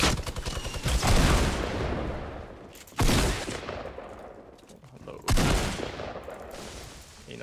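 Loud bursts of rapid minigun fire in the video game Fortnite come in three long volleys, each one fading into rattling echoes, with some voices heard under the shooting.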